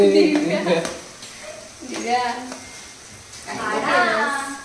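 Potato filling for batata vada frying in a pan, a soft steady sizzle running beneath people talking nearby.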